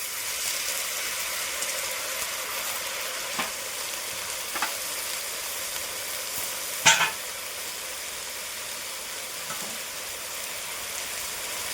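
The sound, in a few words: amaranth leaves stirred and frying in pan for pulao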